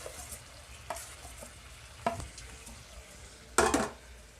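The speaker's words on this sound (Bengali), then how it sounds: "এবার আমি ছানাটা পাক দিয়ে নেব। আর এইভাবে কিন্তু অনবরত নাড়তে থাকতে হবে।" Chhana being stirred and cooked in a pan for kacha golla, giving faint soft scraping and sizzling with a few louder spoon scrapes against the pan, the last one the sharpest.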